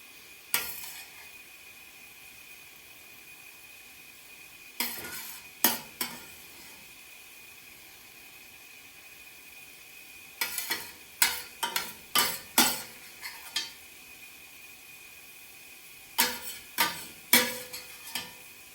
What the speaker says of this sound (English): we're gonna take a spoon and we're gonna spoon all the good mushrooms and sauce over the top